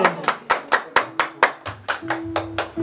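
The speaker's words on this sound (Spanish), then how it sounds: "Fuerte el aplauso para él" Applause for Gustavo at his birthday celebration with a youth mariachi band, about a dozen quick, evenly spaced hand claps from one close clapper, sharp and fairly loud, with a faint voice or tone beneath.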